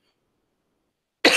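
A single short cough bursts out after a second of silence, close to the microphone.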